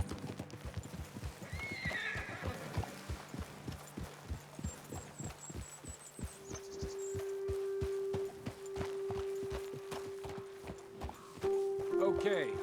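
Horse hooves clip-clop steadily in Red Dead Redemption 2, with a whinny early on and a rhythmic gait that slows and stops, joined later by a sustained tone and faint talk in the background.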